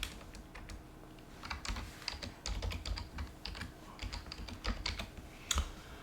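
Quiet keystrokes tap on a computer keyboard while a file is edited, irregular bursts of close clicks with short pauses between them.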